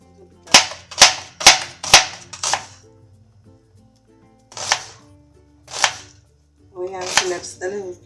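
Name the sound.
knife chopping onion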